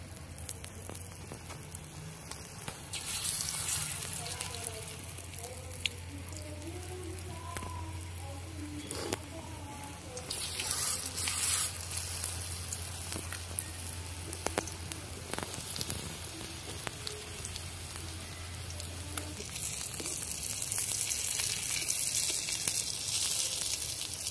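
Taro (mankochu) pakoras deep-fry in hot oil with a soft, continuous crackling sizzle like light rain, fairly quiet throughout and growing slightly fuller in bursts, with a low steady hum underneath.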